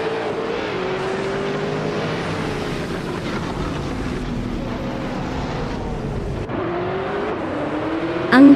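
A 2004 Lamborghini Murcielago RGT race car in a racing video game drones with a steady engine tone that shifts pitch gradually through the run, loud and continuous with no speech.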